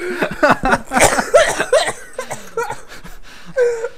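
Someone coughs in several rough bursts mixed with chuckling and breathy laughter, close and fairly loud.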